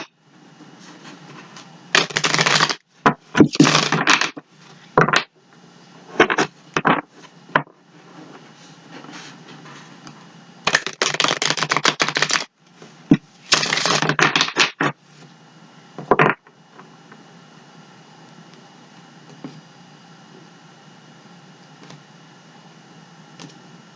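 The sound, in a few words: shuffling tarot cards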